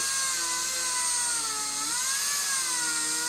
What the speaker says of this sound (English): I'm going to Dremel just to the outside of it.